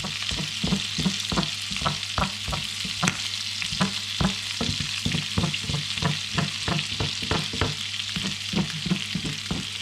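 Prawns frying in butter in a pan, a close, steady sizzle with rapid rhythmic scraping and tapping as they are basted and stirred, continuous with no talking.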